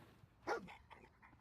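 A dog in a video game lets out a single short bark, fairly close and clear, over a quiet background with faint game ambience.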